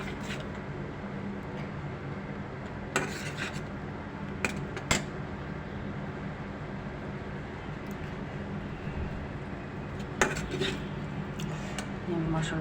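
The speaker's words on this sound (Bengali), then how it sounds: "আমি মশলাটা কষাচ্ছি। মশলাটা ভালো করে কষায় নেব।" Spice paste of turmeric and coriander being stirred and sautéed in a pan for a fish curry, with a continuous low frying hiss and occasional sharp clinks of a spoon on metal, fairly quiet throughout.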